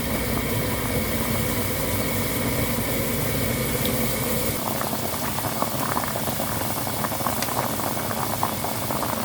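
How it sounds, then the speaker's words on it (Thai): A pot of tom yum soup made with canned fish boils steadily, giving a continuous, fairly loud bubbling and rattling simmer up close. "เราก็จะต้มสักแป๊บหนึ่งนะคะ"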